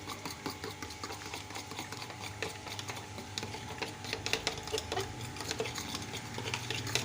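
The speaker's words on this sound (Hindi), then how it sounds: "इसको कर लेते हैं अच्छी तरह मिक्स" Chicken noodles are tossed and mixed with soy sauce, giving steady clinking and scraping of a utensil against a pan or bowl, continuous and close under a faint background hum, with no talk.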